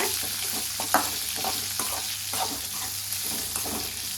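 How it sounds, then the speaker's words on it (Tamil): Sliced onions and green chillies sautéing in a pan, a steady hiss of frying with regular scraping stirs spaced about half a second apart, close and continuous. "வெங்காயம் கொஞ்சம் வதங்கட்டுங்க"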